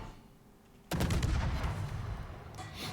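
Warship guns firing shells in World of Warships: after a quiet second, a heavy booming salvo erupts and rumbles on, with a further crack near the end.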